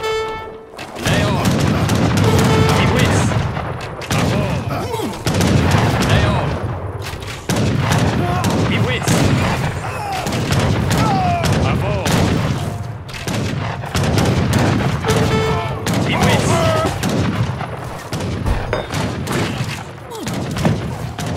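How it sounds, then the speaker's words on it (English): Explosions and artillery fire boom continuously in an Age of Empires III battle, dense overlapping blasts and volleys that keep going with hardly a pause. "A bomb!"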